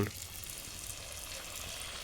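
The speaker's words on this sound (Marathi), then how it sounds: "इथे आपलं तेल तापलेलं आहे कढईत आता आम्ही याच्यात समोसे टाकतो" Samosas fry in hot oil in a kadhai with a close, steady hiss and crackle, continuous throughout the short stretch.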